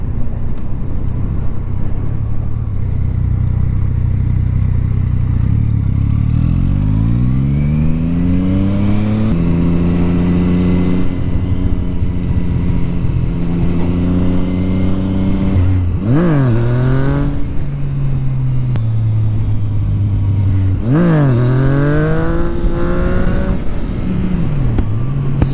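A motorcycle engine accelerates on a ride, loud and close, climbing smoothly through the gears with rising pitch and dropping at each shift, under constant wind rush across the microphone.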